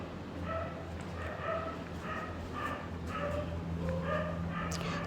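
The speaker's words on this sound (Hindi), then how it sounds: "कुत्ते लोगों की आवाज़ के लिए।" Distant dogs bark in a steady series of short yelps and woofs, carried over a constant low background hum.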